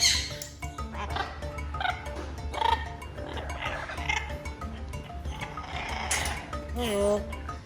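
Large parrots, including macaws, Amazons, cockatoos and African greys, squawk, whistle and chatter in a loud, busy chorus, with overlapping calls throughout and a person talking among them.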